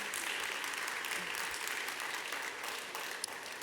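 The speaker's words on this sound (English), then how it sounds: "Can you get a round of applause?" An audience claps at a fashion-weekend panel talk, a faint, even wash of applause held throughout without a clear break.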